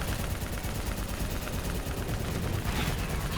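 Sustained gunfire from the video game Call of Duty Black Ops III, dense and loud throughout, with overlapping rapid shots forming a continuous battle din.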